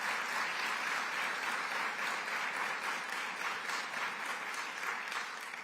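An audience at a governor's rally applauds, a dense, even wash of clapping that holds steady throughout at moderate volume, with no voice over it.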